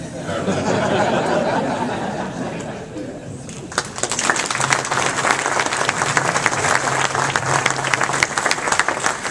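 After a few seconds of a voice speaking over a hall, an audience at a college and career academy breaks into loud, steady applause that continues to the end, with some scattered laughter mixed in.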